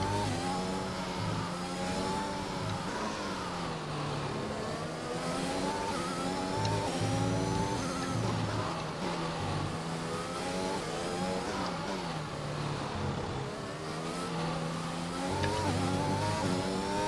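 An F1 race car in the game F1 2021 lapping the Spanish circuit, its high engine note rising through the gears and dropping on downshifts in repeated waves, loud and close, with brief tire squeal.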